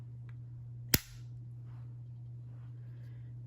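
A portable watercolor set's case snaps shut in one sharp, loud click, with a quiet steady hum underneath before and after.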